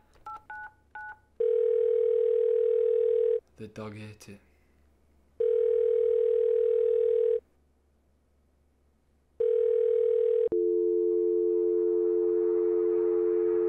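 A landline telephone call to a house plays a series of long steady tones separated by pauses. A brief voice and a burst of dialing tones come between them, and a continuous dial tone holds at the end.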